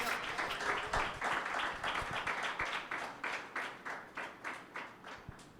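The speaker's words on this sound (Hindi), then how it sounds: "जोर से तालियां बजाएं।" A church congregation claps steadily during a Pentecost Sunday service, the dense applause thinning toward the end into slower, more distinct rhythmic claps.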